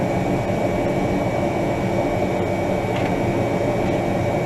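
Steady engine drone from an Arctic Cat snowmobile idling while jacked up, a continuous broadband rumble holding even and fairly loud throughout with no talk.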